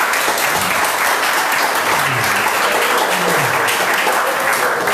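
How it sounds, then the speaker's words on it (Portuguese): Steady, loud applause from a church congregation after a baptism, dense clapping sustained throughout without a break. "Você pode dar uma salva de palmas para Jesus?"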